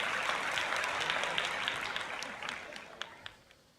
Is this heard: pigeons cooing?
no